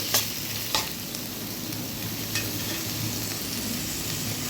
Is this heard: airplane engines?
no